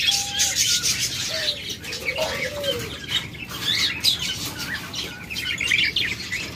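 Pet lovebirds kept in pairs for sale chirp and tweet continuously in a busy flock, with scattered higher calls and occasional soft cooing, moderately loud and close.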